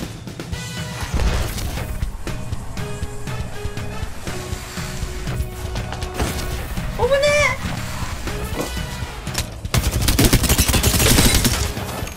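Automatic gunfire and crashing impacts from an Apex Legends firefight, with rapid bursts and a loud, dense barrage toward the end, layered over game effects and a voice speaking.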